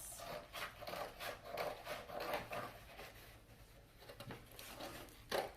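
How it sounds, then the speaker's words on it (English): Big scissors snipping through a sheet of paper for a paper mosaic craft, a series of soft rhythmic crunching cuts close by at moderate level, with no talking. "Definitely want to use big scissors, not the little kid scissors for this."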